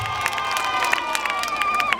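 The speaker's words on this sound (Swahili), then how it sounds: "Piga makofi mengi kwa wavaa suti hapa." Crowd at an outdoor political rally in Kigoma clapping and cheering, a dense spread of claps and shouts under a sustained tonal music or voice line, fairly loud and continuous.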